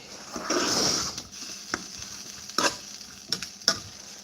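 Food sizzling and frying in a pan on a cooker, a steady hiss swelling early then settling, with a few sharp clinks and scrapes of stirring over the top; no talking.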